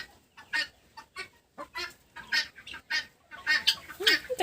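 Chickens cluck in a busy, irregular series of short calls in a backyard poultry yard with a rooster among them, fairly close, with no talking over them.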